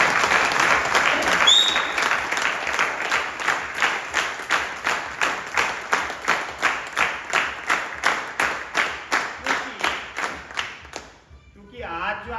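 An audience at a team event breaks into loud applause, first a dense burst of many hands, then settling into rhythmic unison clapping with steady beats that stops abruptly near the end.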